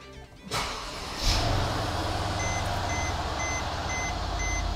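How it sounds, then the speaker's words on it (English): A Mercedes E550 sedan engine cranks and catches, then settles into a steady idle, with a series of regular electronic chimes from the car sounding over the running engine. "last step is just to start the car up and make sure everything's working right."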